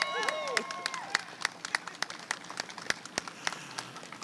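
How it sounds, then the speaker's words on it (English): Small outdoor crowd at a Detroit Pride Month event applauding Corporal Dani Woods, with distinct individual claps ringing out in a loose rhythm over a thin bed of clapping, and a voice briefly heard at the start. "Can we all give Dani Woods a round of applause?"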